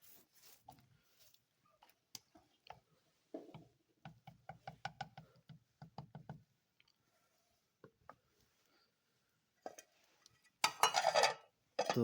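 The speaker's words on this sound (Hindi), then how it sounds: "इसको अच्छी तरह से मिक्स कर देंगे।" Village-style vegetable curry made with lassi being stirred in a pot, giving a scattered run of metal spoon knocks and scrapes, clustered in quick bursts and spaced by quiet gaps.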